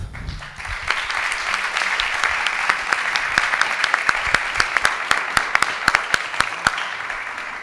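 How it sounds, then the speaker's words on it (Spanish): Audience applause at a talk on liberalism in Spain, steady clapping from a crowd that holds at an even level throughout, with no speech over it. "Así que un aplauso para María, que viene desde Madrid."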